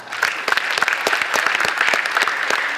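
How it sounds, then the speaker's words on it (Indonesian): Audience applause at a regional government event in North Sumatra, a short burst of dense, lively clapping from a crowd that stays even and strong throughout. "Tepuk tanganlah."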